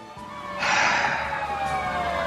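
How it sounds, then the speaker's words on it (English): A siren wails loudly, rising in from a quieter background and holding steady, with no voices. "can hear sirens, Barry."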